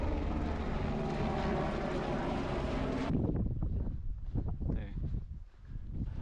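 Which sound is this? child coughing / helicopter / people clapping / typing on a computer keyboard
helicopter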